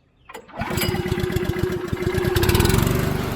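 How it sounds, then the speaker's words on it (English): Small Honda gas engine, used for driveway cleaning, pulled to start: a quick rustle, then it catches and runs with a fast, even chug that settles into a loud, close idle. "Let's crank her up. Gas on, choke on, switch on."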